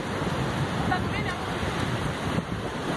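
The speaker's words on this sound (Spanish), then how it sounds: "espérate, la ola, espérate, la ola" Ocean surf rushes and churns continuously under wind noise, a loud broadband wash of waves beside a fishing boat, with no clear single crash.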